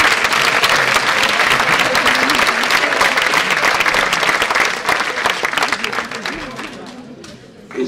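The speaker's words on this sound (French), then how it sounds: "je crois qu'on peut applaudir votre partenaire principal." An audience at a corporate event applauds with loud, sustained clapping and a murmur of crowd voices underneath, easing off toward the end before a brief voice.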